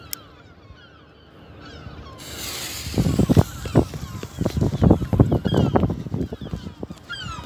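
A quiet start, then a burst of loud, harsh seagull cries, many overlapping squawks repeating closely.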